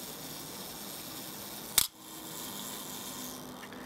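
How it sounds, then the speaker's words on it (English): A Nikon FM3A 35mm film camera fires on its self-timer: one sharp, quick mechanical clack of the mirror and shutter in a quiet room, then near silence. "So the mirror goes up first, and it counts down and then fires the shutter"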